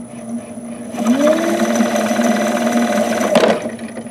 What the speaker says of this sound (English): Let's hear the sound of the motor hear it. Just running and spinning in there.